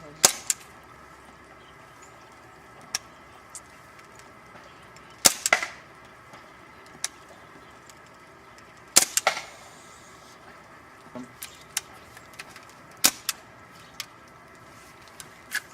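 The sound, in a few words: Well G196 Mauser C96 CO2 airsoft pistol firing BBs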